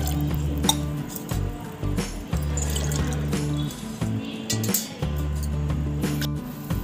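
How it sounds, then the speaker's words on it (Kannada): Three glasses of water pour and splash into a pot for making chakli dough, with clinking of metal, over a steady low mechanical hum that cuts in and out. "3 ಗ್ಲಾಸು ನೀರು ಹಾಕ್ತಾ ಇದ್ದಾರೆ."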